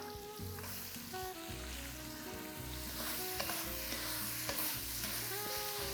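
Cabbage and vegetables cook for jjajangmyeon in a pot, sizzling steadily while a utensil stirs and scrapes through them in a close, continuous, moderately loud clatter.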